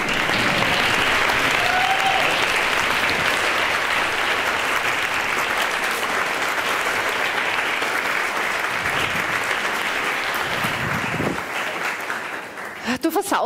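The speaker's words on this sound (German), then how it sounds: "Einen Applaus für den Papa," An audience at a live talk gives a round of applause for the speaker's father, loud dense clapping that holds steady and then tapers off near the end.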